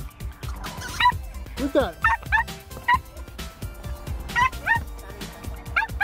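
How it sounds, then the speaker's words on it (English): Dogs barking in a home, repeated sharp yips and barks in quick bursts close by, with someone talking over them. "Apparently the dogs have to go out."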